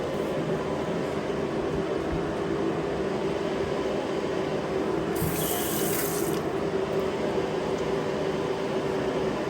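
Steady running water from a thawed, previously frozen sink faucet, continuous and close, with a brief hissy burst partway through.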